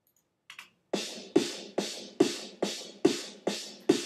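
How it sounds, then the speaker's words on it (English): Two snare tracks for a trance drum buildup, a clean albino snare and a classic techno snare, playing together as a steady run of loud, snappy hits alternating between the two, each with a bright noisy decay and no voices. "So you'll hear one snare, then you hear the next."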